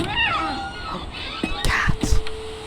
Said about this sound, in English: Cat. Sneaky little bastard.